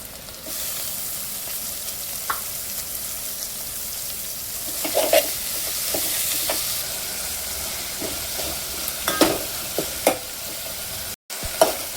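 Spinach frying in hot oil with garam masala and salt, a continuous close sizzle and steamy hiss with occasional clinks and scrapes of a spoon stirring the pan, no voices.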